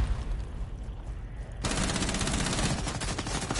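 Rapid automatic gunfire from Rainbow Six Siege gameplay erupts partway through, a sustained dense burst of close, loud shots following a quieter stretch of muffled action.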